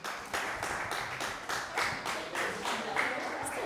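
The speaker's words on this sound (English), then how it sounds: "I request all my groupmates to stand up as you give them a round of applause" A classroom audience claps for a student group after a class presentation, a fairly quiet, rhythmic round of handclaps in distinct bursts, with faint voices underneath.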